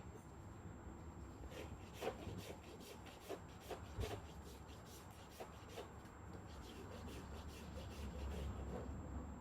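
A farrier's rasp works over a horse's hoof during trimming, taking a little off the lateral side in the toe quarter; steady repeated scraping strokes with rhythmic rasping peaks, close by.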